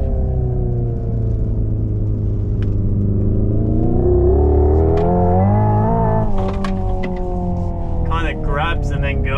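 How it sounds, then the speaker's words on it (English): A 650hp Hyundai IONIQ 5 N's artificial engine sound revs and accelerates, its pitch climbing steadily with a low rumble, while people talk over it nearby. "That's the normal car sound."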